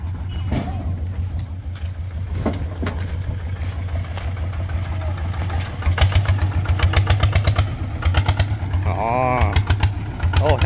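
A tractor engine chugs low and steadily throughout, loud and close, as it hauls uphill during a cassava harvest, with voices talking over it and clatter and thumps around it.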